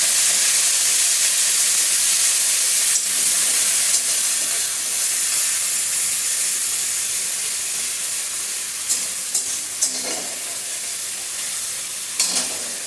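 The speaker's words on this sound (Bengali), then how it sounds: "এখন দিয়ে দেবো পেঁয়াজ বাটা, বড় সাইজের একটা পেঁয়াজ আমি বেটে নিলাম।" Onion paste from one large onion frying in oil with whole cardamom and cinnamon, a loud steady hiss and sizzle close by, with a few light stirring knocks toward the end.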